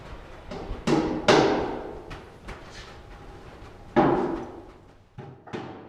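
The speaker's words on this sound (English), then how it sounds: "now all I'm doing is tacking a couple 2-inch nails at the top of the first riser" Hammer blows tack 2-inch nails into the top of a wooden stair riser during home framing, a handful of sharp, uneven knocks spaced a second or more apart, close and alone.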